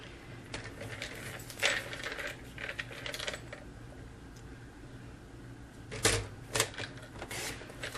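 Designer paper for a self-closing box being cut in quick, close snips and crisp paper scrapes, with a few sharper bursts near the end, no voices.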